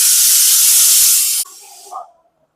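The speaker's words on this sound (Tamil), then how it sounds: "ஒரு விசில் வந்துடுச்சு." A pressure cooker on the stove, simmering karunai kizhangu kuzhambu, lets out a loud, close steam whistle that hisses for about a second and a half, then drops to a softer sputter and fades.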